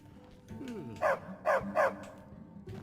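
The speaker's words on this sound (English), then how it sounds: "apparently there's an invisible dog right in front of us" An unseen dog in Skyrim gives three sharp barks in quick succession, close by, after a faint whine, over quiet game ambience.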